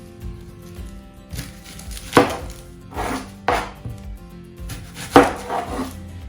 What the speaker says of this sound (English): Now the way how you cut the onion, this thin you cook fried rice, thin better.